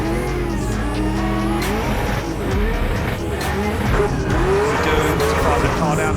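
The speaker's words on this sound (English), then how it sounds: "A big slam and a handbrake, back onto the throttle once again, heavy on the foot brake once again in outside zone 5." A drift car at a Drift Masters competition slides through a corner with sustained tire squeal over a loud, revving engine, close and continuous as it is thrown sideways, with a commentator talking over it.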